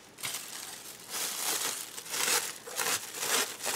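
A plastic bag is crumpled and stuffed into a puffy paper heart, making bursts of close, crackling crinkles that come in uneven waves.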